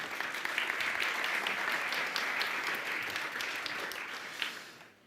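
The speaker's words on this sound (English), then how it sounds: "A big applause for him." Audience applause at a tech talk on test-driven development with AI, a dense steady wash of clapping from a room of listeners that holds for about five seconds before tapering off at the end.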